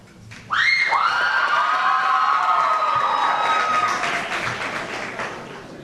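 A large crowd of children and adults cheers and screams loudly at a police youth academy graduation ceremony, a sustained roar of high-pitched yelling that swells suddenly and holds for several seconds before tapering slightly.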